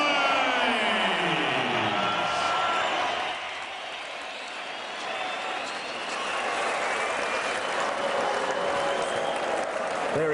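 A sellout crowd of over 8,000 in Liverpool's Echo Arena roars and applauds heavyweight boxer David Price after his win over Audley Harrison. The cheering and clapping are loud and sustained, dip briefly midway, then swell again.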